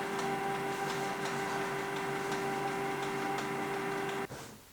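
Canon G-series inkjet printer (G550/G650/G620) running a test print: a steady mechanical whir with a constant tone and regular ticking of the carriage, close and continuous, stopping abruptly near the end.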